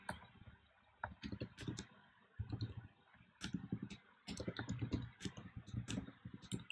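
Typing on a computer keyboard while writing code, with quick irregular clusters of light clicky keystrokes in bursts separated by short pauses, close and fairly quiet.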